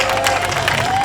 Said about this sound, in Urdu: بہت ساری تالیاں ہمارے ان دونوں